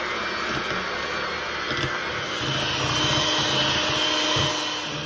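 An electric mixer beats goat cheese, sour cream and pickle juice for a pickle cheesecake, a continuous whirring motor drone that shifts slightly in load as the beaters work through the thick mixture.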